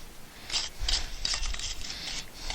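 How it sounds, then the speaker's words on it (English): A wire brush scrubs a Honda Civic rear brake caliper in short, quiet strokes, a series of about six close, hissy scratching bursts repeating at an uneven rhythm. "So we're going to give that a little scrub. And give the whole thing a scrub."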